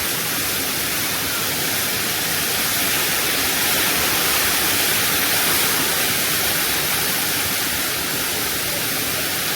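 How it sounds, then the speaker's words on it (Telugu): A waterfall in the Black Forest, Germany, roars steadily and loudly, a dense unbroken rush of falling water that holds at the same level throughout. "చూడండి ఎట్లా ఉందో వాటర్ ఫాల్స్"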